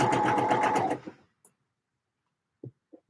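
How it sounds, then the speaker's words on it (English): A sewing machine stitches the side seams of a dress in a steady fast run for about a second, then stops, followed by a few faint handling taps. "before I sew up my side seams"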